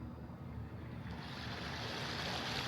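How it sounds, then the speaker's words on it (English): A sound machine in a therapy office plays water sounds: a steady, even wash of surf-like noise that continues unbroken and moderately loud throughout, with no talk. "water sounds,"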